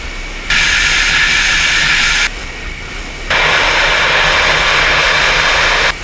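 A NASA lunar landing practice vehicle's engine roars loudly while the craft descends and translates sideways, in two long, hissing jet-like bursts separated by a brief quieter pause.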